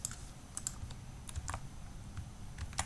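A few soft key presses on a computer keyboard while cutting code, sparse light clicks over faint room noise, close and quiet with no talking.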